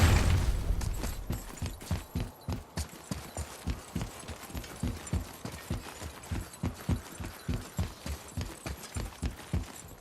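Horse hooves clop at a steady trot in the God of War video game, close, loud and rhythmic over a low ambient hum, with no voices.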